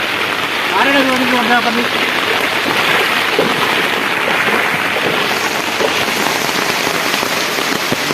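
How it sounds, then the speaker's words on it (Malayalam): Floodwater rushing steadily through a flooded area in Kakkidikkal, a dense continuous wash of water close by, with a voice talking over it in the first couple of seconds. "ഇതാ വെള്ളതാ ഒലിയാണ്."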